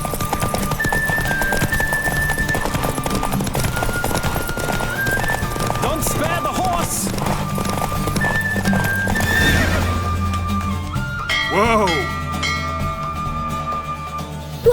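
Galloping hooves drum steadily in The Witcher 3: Wild Hunt, with horse whinnies and snorts, under music and ambient noise.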